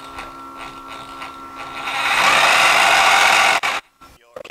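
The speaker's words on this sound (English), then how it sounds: "Here, this kicks on the air pump. You can hear that running." Air pump in a 1:48 scale British T Class RC submarine kicks on, rising into a loud, steady buzzing whir near the microphone before cutting off abruptly, followed by brief clicks.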